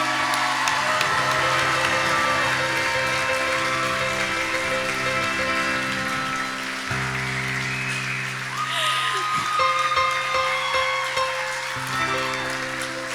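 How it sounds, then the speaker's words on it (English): A commencement ceremony audience gives the graduates a sustained round of applause, dense and even throughout, with a sustained musical tone beneath and a few voices mixed in. "Can we get one more round of applause for all our graduates today?"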